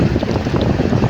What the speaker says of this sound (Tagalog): Malakas na yung hangin dito sa amin